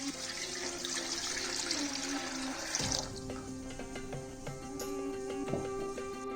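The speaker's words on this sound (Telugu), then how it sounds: "ఇప్పుడు ప్యాన్ పెట్టుకొని వాటర్ పోసుకోవాలి." Water poured into a cooking pan for mutton haleem, a rushing splash that shifts partway into a rising, ringing fill tone as the level climbs, close and alone.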